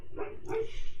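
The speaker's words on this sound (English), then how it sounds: "Yeah, my dogs are still up." Dogs barking indoors at night, a couple of short sharp yips and barks close by within about a second.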